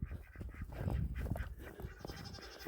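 Goats bleating and calling close by in a farmyard with ducks, a few short overlapping cries over roughly three seconds, fairly quiet.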